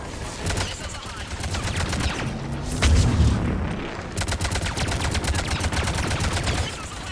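Rapid, dense gunfire and a missile salvo in the Mass Effect 3 game, loud and relentless, with a deep boom of launches and impacts midway before the rattling fire resumes.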